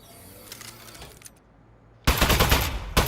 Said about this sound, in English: Presenting the Aperture Science Turret. Go on, take it for a spin.